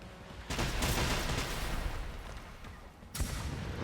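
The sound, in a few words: rocket barrage from machines in video game Generation Zero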